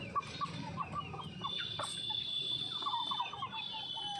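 A hen clucking while eating its own egg, with soft, close, irregular clucks and short calls over faint farmyard background noise, no talking.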